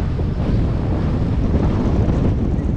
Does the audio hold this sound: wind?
yes